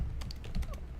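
Quick typing on a computer keyboard, a handful of light clicking keystrokes in irregular rapid succession, close and fairly quiet over a low background hum, no talking.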